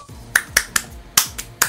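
Six sharp hand claps ring out close and loud in an uneven rhythm, each a crisp single smack, with no voices in between.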